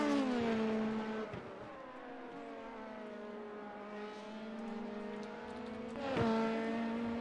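Sportscar engines at Watkins Glen in a racing game, a steady high whine with a gear change and a second rising howl near the end, continuous and close, no voices.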